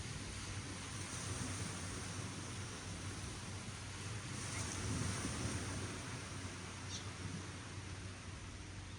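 Waves wash onto a beach at Koh Phangan, Thailand at sunrise: a faint, steady broadband rush of surf mixed with light wind noise, continuous throughout, with no talk.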